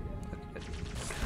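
Grenade explosion in the video game Halo 2, a loud crash-like burst of game audio that swells about halfway through and stays dense to the end of the short clip.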